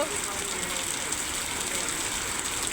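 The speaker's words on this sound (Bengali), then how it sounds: "বৃষ্টিটা আবার বাড়লো" Heavy rain falling in a thick, continuous wash of noise, loud and near, with no pauses.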